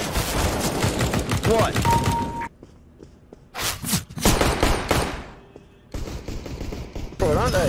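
Bursts of gunfire from the video game CS:GO crack out in rapid volleys separated by short quiet gaps, with players talking over the shooting.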